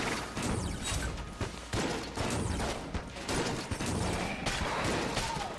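Rapid, overlapping shotgun blasts from a mass shotgun in the Enter the Gungeon video game fire in a near-continuous loud barrage, with short gaps between volleys and mechanical clicks mixed in.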